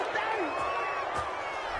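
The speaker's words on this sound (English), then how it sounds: "this crowd does not like that call" A stadium crowd in the Madden football video game roars in a dense, continuous wash, reacting to a penalty call in a Broncos at Titans game, with whistle-like tones gliding through it.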